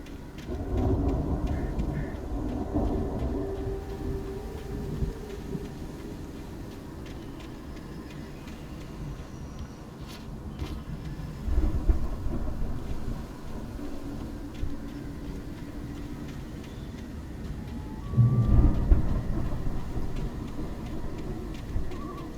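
Thunderstorm in the video game Alan Wake: low rumbling thunder rolls through steady rain, with swelling peaks near the start, middle and end, no speech.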